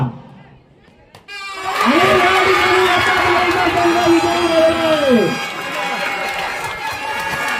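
A school crowd erupts in loud, sustained cheering and shouting at a cricket match, a sudden burst after a brief quiet that holds for several seconds before easing, with talk mixed in.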